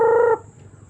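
A single short, nasal chicken call rings out close by, then cuts off into quiet background.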